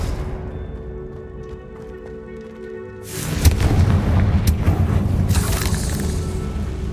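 A Confringo fire spell bursts in Hogwarts Legacy, a sudden loud blast after a quieter ambient stretch, followed by a sustained rumbling, crackling roar with a few sharper pops.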